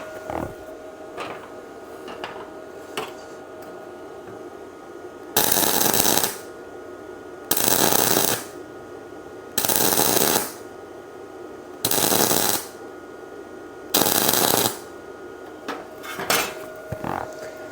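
A Bestarc MIG145 welder runs flux-core wire in five loud, crackling bursts of roughly a second each, evenly spaced and close, with quieter workshop noise between them.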